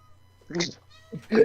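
A house cat gives two short meows nearby, one in the middle and one at the end, over a faint low hum.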